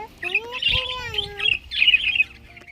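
Small pet birds chirp and whistle close by in rising and falling bursts, clear and fairly loud against a quiet room.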